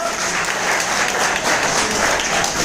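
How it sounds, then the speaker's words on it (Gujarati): An audience in a hall claps loudly and steadily at a business seminar, a thick continuous patter of many hands throughout with no pauses. "તો પછી તાળી જોરદાર હોવી જોઈએ કે નહીં હોવી જોઈએ?"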